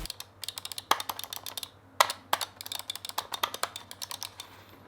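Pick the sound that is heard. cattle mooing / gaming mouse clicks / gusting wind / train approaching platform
gaming mouse clicks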